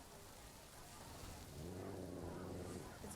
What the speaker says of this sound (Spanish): Está lloviendo a cántaros.